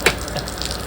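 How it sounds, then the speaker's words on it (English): Gasoline pouring out of the top of a faulty carburetor float on an Evinrude outboard motor, a close, steady liquid gushing and splashing with no talk. "The gas is pouring out the top"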